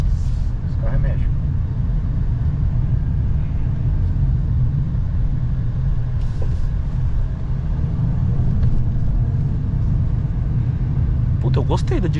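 Ford Maverick pickup driving along, its steady low engine and road rumble filling the cabin throughout, with people chatting faintly over the drone.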